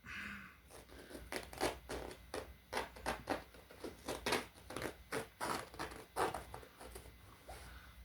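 Scissors snip repeatedly through cloth being cut into pieces for char cloth, a steady run of close, crisp crunching cuts with short pauses between strokes.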